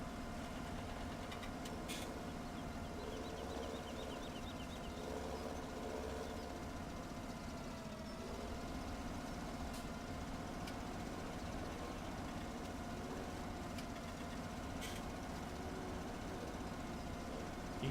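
A farm vehicle engine idles steadily in Farming Simulator 17, a low continuous hum with a faint knocking rhythm, parked near a shed, with occasional small clicks over the drone.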